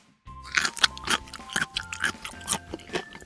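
A strawberry cream swirl lollipop is bitten and crunched up close, with a steady run of sharp, loud crunches and chewing sounds lasting several seconds and no speech over them.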